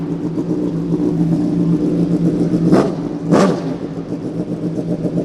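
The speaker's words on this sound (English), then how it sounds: "I think give it a bit of a rev, Barry." A Hyperbike PGM V8 2000cc motorcycle engine with nearly straight-through exhaust pipes idles with a loud deep rumble, then gets two sharp quick revs that rise and fall before settling back to idle, with no talking.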